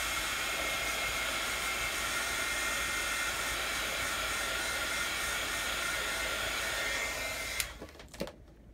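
A hair dryer blows steadily on freshly applied colors in a Bible journaling craft session, a loud, even rushing hiss that cuts off near the end, followed by a few small clicks and handling sounds.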